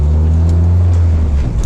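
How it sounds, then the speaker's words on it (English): A car with a B-series engine on newly installed motor mounts drives along, its engine humming in a steady low drone up close, with slight rise and fall in pitch and no talking. "now I'm just driving around"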